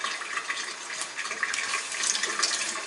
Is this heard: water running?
yes